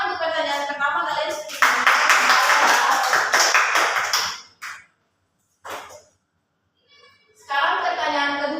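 Students in a classroom lesson break into a burst of clapping that runs for a few seconds and then stops, followed by brief scattered taps. Children's voices chatter at the start and again toward the end.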